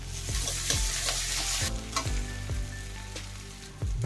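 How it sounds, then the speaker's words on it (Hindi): Ginger paste and onions fry in a pan, a steady loud sizzle broken by repeated scraping stir strokes of a spoon, close up, with no talking. "तो अभी डालूंगी 1/2 इंच अदरक का पेस्ट, अदरक का कच्चा स्मेल जाने तक फ्राई कर लूंगी।"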